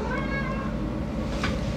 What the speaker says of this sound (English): It's past my bedtime and my cat is reminding me of that.